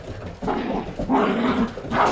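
Golden Retriever puppies about nine and a half weeks old play together, giving close, busy yips, whimpers, small growls and short barks in quick overlapping bursts.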